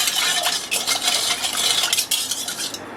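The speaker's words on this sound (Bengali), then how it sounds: "সব কিছুকে ভালোভাবে মিশিয়ে নিচ্ছি।" A spoon stirs a milk pudding mixture tinted with red food colouring in a metal bowl, giving steady close scraping and light clinking strokes with no talk.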